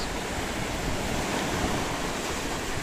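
Waves at Samsun Atakum beach on a choppy sea roar as a dense, steady wash of surf, loud and close and mixed with wind noise on the microphone, with no voices.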